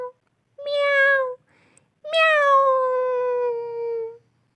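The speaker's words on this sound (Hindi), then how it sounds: "वफादार बिल्ली अपने मालिक का हुक्म मानकर जल्दी से एक मुर्गी दबोच कर ले आई। म्याऊं, म्याऊं," An animated cat meows twice, a short meow followed by a longer drawn-out one, clear and close, in a children's cartoon story.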